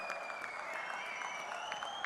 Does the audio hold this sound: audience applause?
yes